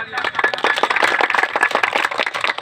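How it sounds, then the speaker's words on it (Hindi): A crowd at a village election rally in Patkhauliya, Ghazipur district, claps in a dense, continuous burst of close, sharp hand claps lasting a few seconds. "इनके लिए एक बार जोरदार तालियां"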